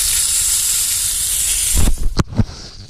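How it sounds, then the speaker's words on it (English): Sausage cooks over an open campfire, giving a steady hiss and sizzle throughout, then a few sharp pops and crackles near the end, close and fairly loud with no voices. "Just crackling on open, sizzling"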